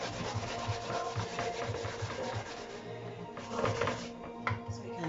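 Water yam being grated by hand for Ikokore, a quiet rhythmic rasping and scraping with repeated strokes, fairly close and soft.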